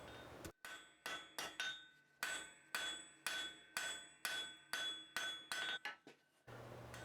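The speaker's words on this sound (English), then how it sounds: "The first thing that I'm going to be doing is flattening out the bar slightly." Blacksmith's hammer strikes a hot steel bar on the anvil to flatten it, about a dozen loud ringing blows in steady rhythm, each with a metallic ring-out, close and alone.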